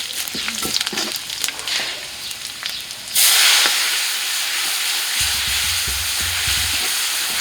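Cumin and panch phoron hit hot oil for a dal tempering with a sudden loud sizzle. It settles into a steady frying hiss, and a lower rumble joins as the dal goes in.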